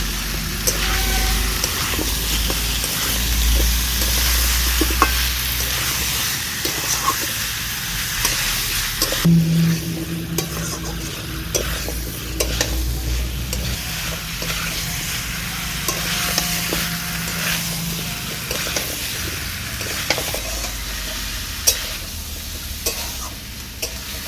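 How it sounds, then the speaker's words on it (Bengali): Chicken stir-fried in a pan with winter vegetables such as potato, carrot and papaya gives a steady, close sizzle with a stirring scrape throughout, and no talking. "চিকেনটাকে সবজির সাথে আমি বেশ কিছুক্ষণ একটু ভাজাভাজি করে নিলাম"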